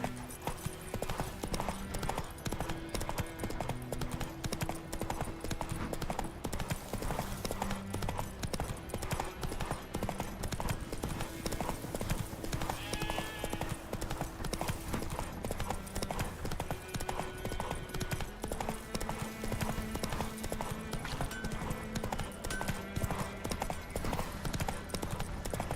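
Horse galloping in The Witcher 3, a steady loud clip-clop of hooves running under a continuous game music score, with an occasional faint whinny.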